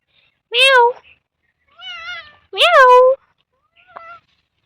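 A cat meows loudly and close by, about four separate meows, two strong and two softer, with short silent gaps between them.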